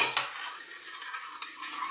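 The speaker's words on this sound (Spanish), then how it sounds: "Por ahí removéis para deshacer el azúcar." A spoon stirs sugar into hot cider punch, scraping and clinking softly against the pot in a continuous close swirl, with a louder tap of metal on metal near the start.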